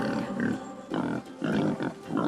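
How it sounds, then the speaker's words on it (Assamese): A wild boar grunts in four or five rough, low bursts, evenly spaced and close, with no voices. "বনৰীয়া গাহৰি"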